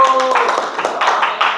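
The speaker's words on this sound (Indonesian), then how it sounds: "Tepuk tangan." In a classroom, a group claps hands in a short burst of several quick, close claps under a voice.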